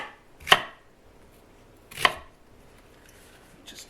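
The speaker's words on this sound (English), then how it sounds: "we just cut it into like 1-inch rounds" A knife cuts leeks into rounds on a board: two sharp, crisp chops about one and a half seconds apart, close and clear in a quiet kitchen.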